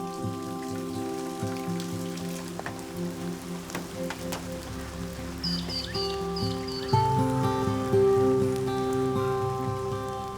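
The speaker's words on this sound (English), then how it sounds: "It pours continuously, even though the rainy season is over." Heavy, continuous rain pours down in the remote Kimberley wilderness of Australia during an unusual April downpour, a steady dense hiss with scattered bird chirps and tweets over it.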